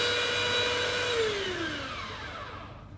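A coffee grinder grinding coffee beans whirs with a steady motor whine whose pitch slides downward as it runs, fairly loud at first and fading as the grind winds down, with no speech.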